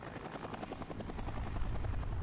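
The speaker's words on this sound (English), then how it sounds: "How the hell do you hear a helicopter down in the sewers?" A helicopter in the Prototype video game thumps with rapid rotor chopping that grows louder and closer over a low, steady engine rumble, with no talk.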